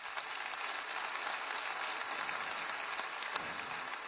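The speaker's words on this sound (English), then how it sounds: "Now that deserves a round of applause." Audience applause at a county government state-of-the-county address, a steady, dense patter of many hands clapping for several seconds with no talk.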